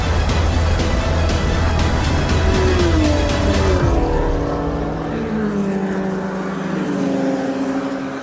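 Race cars roar loudly past on a track, engines revving and shifting, with the whine of several vehicles overlapping throughout, in Protoura racing.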